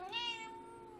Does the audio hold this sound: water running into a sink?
no